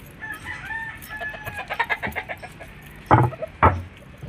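Chickens and roosters at outdoor chicken pens: a rooster crows, hens cluck in a quick run of notes, and two loud, close squawks break out near the end.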